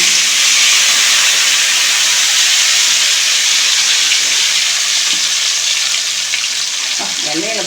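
Mustard seeds for a traditional chutney crackle in a hot pan, a loud, continuous close-up hiss and sizzle that fades slightly toward the end, when a few faint voiced sounds enter.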